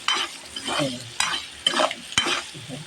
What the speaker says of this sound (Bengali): এই যে আলুটাও আমি একটু ভেজে নিচ্ছি হলুদ আর লবণ দিয়ে একটুখানি ভেজে নিচ্ছি